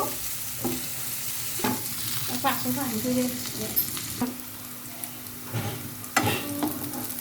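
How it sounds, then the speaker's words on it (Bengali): Onions stir-frying in oil in a pan, with a steady close sizzle broken by intermittent scraping stirs and light clatter of a spoon, no talk. "তো এখন আমি পেঁয়াজগুলোকে নেড়ে ছেড়ে দিচ্ছি আর এগুলোকে আমি হালকা গোল্ডেন কালার করে ভেজে নিব"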